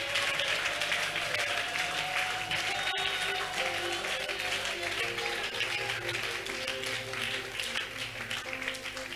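A church congregation applauds in praise at a French-language service, a dense, steady roar of many hands clapping that fills the room without a break, with voices mixed in underneath.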